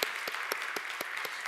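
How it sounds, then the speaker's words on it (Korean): A church congregation applauds at an anniversary and ordination service, dense clapping with a steady wash and a few distinct louder claps at regular intervals, no speech over it. "우리 권사님들께 다시 한번 박수 부탁드립니다."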